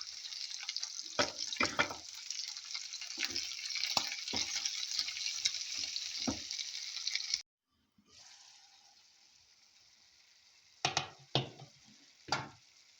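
Radish, carrot and cooked flaked chicken sautéing in a pan, a steady close sizzle with intermittent stirring clatters, briefly dropping out before resuming with a few louder utensil knocks.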